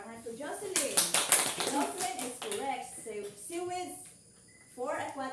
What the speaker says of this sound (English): Let's clap our hands for Jocelyn